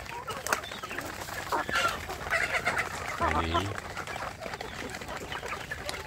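Free-range village chickens cluck in a flock throughout, a steady busy mix of bird calls with one brief spoken word from a person nearby.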